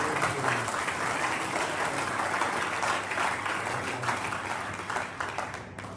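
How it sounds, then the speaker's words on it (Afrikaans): Sustained applause from a seated church or school-event audience thanking the MC, dense steady clapping that fills the hall for several seconds without a break. "Kan ons net 'n ander klap vir ons MC"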